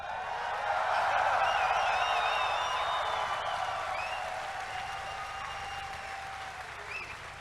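A large crowd at the TennoCon 2019 Warframe convention applauds and cheers, a dense sustained wash of clapping with whoops rising over it, slowly easing off toward the end.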